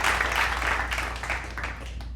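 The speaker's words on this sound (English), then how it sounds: "Let me give a round of applause for entrepreneurship." Applause from an audience at a clothing brand's one-year anniversary event: a steady, dense wash of clapping that holds for the whole stretch and tapers slightly at the end.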